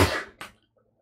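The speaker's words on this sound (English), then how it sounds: "I gotta sneeze." A single sneeze bursts out after a loud, noisy lead-in, a short sharp broadband blast followed by quiet breathing.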